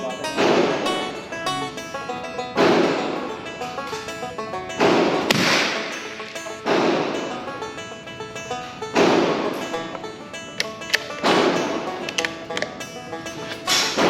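Repeated .22 caliber rifle shots on an outdoor shooting range, sharp cracks roughly every one and a half to two seconds, each followed by a brief echoing tail, with faint background noise between.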